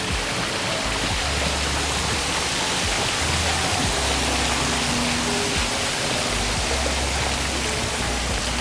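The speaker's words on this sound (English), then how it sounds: "it's a waterfall cube with a deck" Water pours steadily from a waterfall cube sculpture with a deck in Poznań, a dense, unbroken rushing hiss with low rumble beneath, constant and fairly close throughout.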